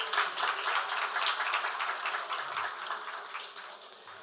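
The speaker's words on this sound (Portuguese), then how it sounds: "solicitamos uma salva de palmas" An auditorium audience at a technical-scientific exchange panel claps together in steady, dense applause that eases slightly toward the end.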